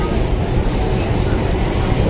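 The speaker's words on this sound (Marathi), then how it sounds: "आता इथे आपल्या दुसरी मेट्रो पकडली आणि आता डायरेक्ट आता घाटकोपरला चाललो" A crowded Mumbai metro train running toward Ghatkopar, heard from inside the packed carriage as a loud, continuous rumbling roar of wheels and motion.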